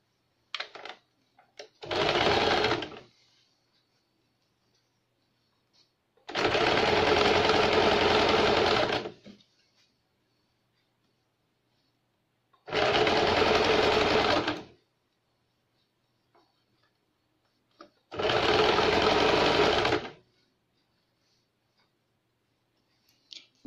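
A sewing machine stitches folded blouse fabric in four separate bursts, each a rapid, close whirring run of a few seconds with quiet pauses and faint clicks between.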